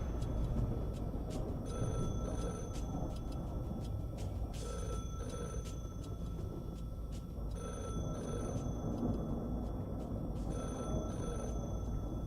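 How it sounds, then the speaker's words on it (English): A telephone rings in repeated electronic bursts spaced a few seconds apart, faint and steady against a constant background hiss, with no voices. "I gotta make a phone call to Worky"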